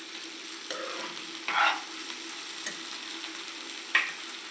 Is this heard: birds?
no